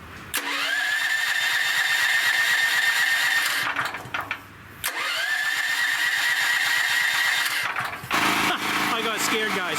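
A small generator engine is pulled to start with the choke on, catching twice into loud, rough running for a few seconds each time, then stalling, with short gaps between attempts.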